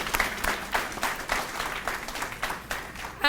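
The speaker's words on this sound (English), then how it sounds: "Give them a round of applause." Applause ripples through a crowd at an all-sports school banquet, a brief, moderately distant patter of many hands with a few louder claps near the end.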